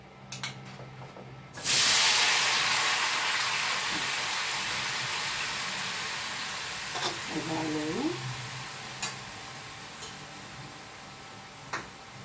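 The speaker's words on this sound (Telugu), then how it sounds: "2 గంటల ఆయిల్ వేసి కాగినాక ఇంకేం వేయద్దు, మీరు ఈ టమోటాలనే వేసేసుకోండి." Tomatoes dropped into hot oil in a pan for tomato pickle burst into a loud, bright sizzle that slowly fades over several seconds, with scattered ticks and a brief voice underneath.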